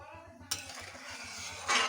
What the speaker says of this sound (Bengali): যত নাড়তে থাকবেন ঘনত্ব তত বাড়তে থাকবে